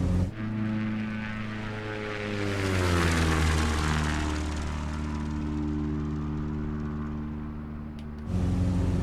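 A propeller airplane engine in a flight simulator game flies past during a flyby, a loud steady drone whose pitch bends downward as it passes, then cuts off sharply before resuming.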